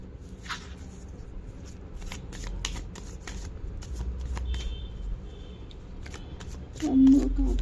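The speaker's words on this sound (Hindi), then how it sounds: "एक और कार्ड मैं निकाल रही हूँ।" Tarot cards being shuffled and drawn, with a run of crisp rapid riffling and flicking close up at low volume, then a louder shuffle near the end, with soft background murmur.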